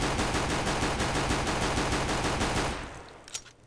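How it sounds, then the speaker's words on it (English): A Glock pistol firing in the game CS:GO: a fast, unbroken stream of loud shots for nearly three seconds, then a sudden stop into a fading tail. "the T-sided weapon, the Glock. This is what you start out with."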